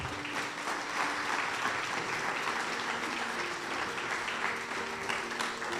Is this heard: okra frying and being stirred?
no